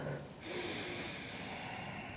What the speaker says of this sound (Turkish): Uzun nefes al.